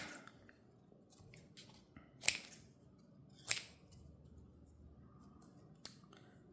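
Scissors trimming from the front, giving a few sharp isolated snips at moderate distance over quiet background rustle, with no talking.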